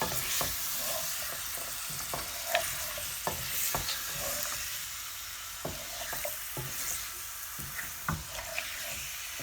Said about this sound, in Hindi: आलूओं को हम मिक्स कर लेते हैं।